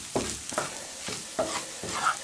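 A spoon stirs thick porridge with cheese in a cooking pot, several soft scraping strokes at an unhurried pace with a faint sizzle underneath, close and quiet with no talking.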